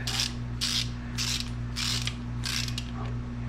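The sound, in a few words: ratchet wrench tightening KA24DE engine bottom end bolts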